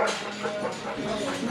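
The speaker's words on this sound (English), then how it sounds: "That dog's crazy." A dog barks and yips excitedly outdoors at a Fourth of July gathering, with short repeated yelps mixed into background chatter and people talking nearby.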